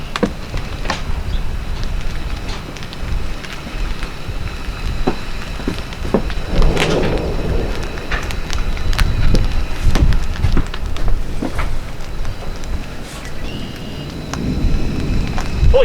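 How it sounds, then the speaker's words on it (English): Outdoor thunderstorm with steady rain pattering and low rumbles of thunder swelling around the middle and again near the end, continuous and fairly loud with no voices. "I hear the thunder coming"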